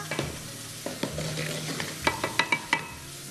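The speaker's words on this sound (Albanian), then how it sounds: "duke e punuar me lugë." A spoon stirring a mixture in a pan, a few soft scrapes and clinks with faint sizzling, quiet and close, ending in a quick run of sharper taps.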